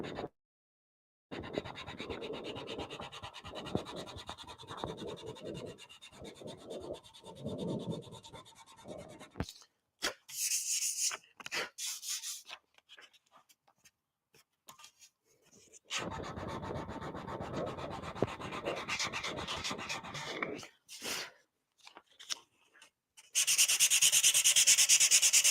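Sandpaper rubbed by hand over a tank makes bursts of rapid, scratchy back-and-forth strokes. The bursts are close and fairly quiet, separated by short pauses and gaps of silence.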